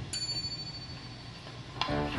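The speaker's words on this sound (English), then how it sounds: "A single bell rings out," A single small bell rings once at a spelling bee, its thin high tone hanging faintly and steadily in a quiet room before a soft knock near the end.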